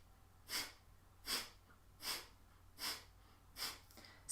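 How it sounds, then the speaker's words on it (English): Forceful breath-of-fire exhales during a beginner-to-intermediate morning yoga core and breath-work session: five sharp, evenly spaced nasal bursts at a steady rhythm, close and fairly quiet, with near silence between them and no talk. "Snap the belly back with each exhale."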